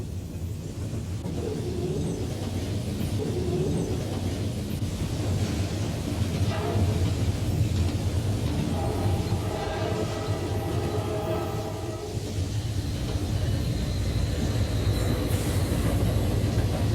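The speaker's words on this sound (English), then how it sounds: "The Clyde Yard to Elkhart transfer meets Amtrak's Capital Limited" A Conrail freight transfer train rumbles past an Amtrak Capital Limited with bi-level Superliner cars at a junction, giving a continuous heavy roar with clanking railcars and faint wheel squeal that stays loud for the whole stretch.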